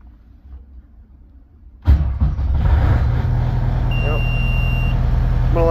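A snow removal machine's engine, stored indoors and plugged in, fires up abruptly after a quiet lead-in and settles into a loud, steady idle as it warms, with a short beeping alarm tone and some talk nearby.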